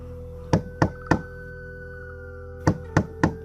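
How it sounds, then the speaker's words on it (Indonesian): Knocking on the wooden door of a house: two sets of three firm, evenly spaced raps separated by a brief pause. A steady low hum runs underneath. "Dan kemudian ia segera mengetuk pintu rumah Mbah Cokro."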